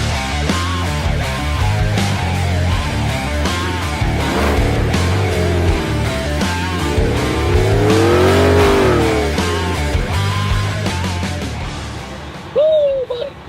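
A Ford Baja F-150 truck stuck in sand revs its engine hard in long, continuous surges, the whine climbing and falling loudly near the middle and settling toward the end.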